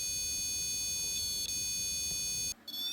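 A REM pod paranormal detector gives a steady high electronic beeping alarm that holds for about two and a half seconds over a noisy background, then cuts out briefly before resuming.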